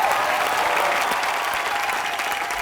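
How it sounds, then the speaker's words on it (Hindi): Loud, dense applause from a comedy-show studio audience, a steady wash of many hands clapping throughout without pause. "जोरदार तालियां हो जाए फॉर"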